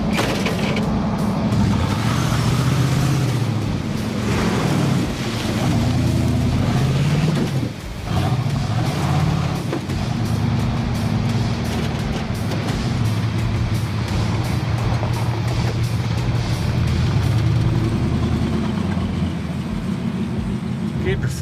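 A Pontiac Trans Am driving on the road, a loud continuous engine rumble with road noise throughout and people talking over it.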